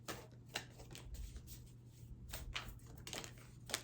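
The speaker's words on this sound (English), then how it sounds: "Let me pull a couple self-care cards for you." Tarot cards being shuffled close by, a quiet series of soft riffling and flicking bursts in uneven rhythm, with no voice present.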